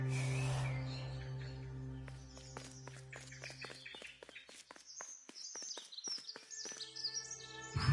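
A bird guard in the video game The Last Campfire squawks, a run of short chirpy calls and clicking steps over a low musical bed, fairly quiet and with no voices.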